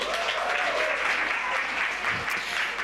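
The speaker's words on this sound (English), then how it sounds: "Give her a round of applause" Summit audience applauding a prize winner, a dense steady burst of clapping from a crowd filling the room, with faint voices mixed in.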